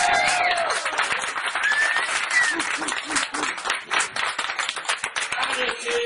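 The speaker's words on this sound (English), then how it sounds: "So please give a round of applause and cheer and whoop as I bring on myself" A comedy audience at the Edinburgh Festival claps and cheers, dense loud applause with scattered whoops filling the room, steady throughout before tapering slightly near the end.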